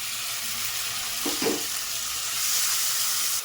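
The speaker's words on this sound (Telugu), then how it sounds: "ఇప్పుడు ఇందులో మనం టమాటా అండి, ఒక టమాటా సన్నగా కట్ చేసుకుని వేసుకోవాలి." Finely chopped tomato fries in a pan with ginger garlic paste, giving a steady close sizzling hiss broken by a couple of soft stirring thumps midway, with no speech.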